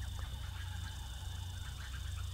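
Bird calls from the hidden-object game Surface, set among sand dolphins, sound over a steady, dense background hum that runs through the whole short stretch. There is no talking.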